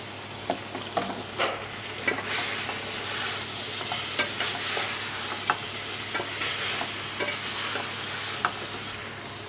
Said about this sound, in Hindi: अब इसमें मैं आलू शामिल करूँगी।